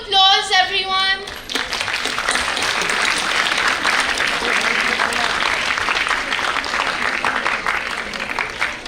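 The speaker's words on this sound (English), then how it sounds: "Another round of applause, everyone." A voice speaks briefly, then a crowd breaks into sustained, steady applause that fills the rest of the clip.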